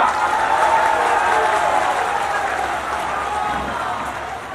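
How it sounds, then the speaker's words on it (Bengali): A crowd at a political rally applauds in a dense, steady wash of clapping that slowly fades toward the end, with faint voices mixed in. "সন্টুর জন্য হাততালি হয়ে যা।"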